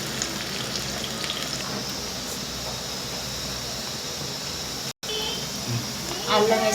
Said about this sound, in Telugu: గోల్డెన్ కలర్ వచ్చే వరకు వేసుకోండి.